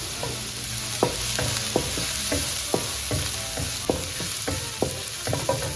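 Green chilies sizzle and fry steadily with a spatula repeatedly scraping and stirring in a pan, close and continuous, no voices.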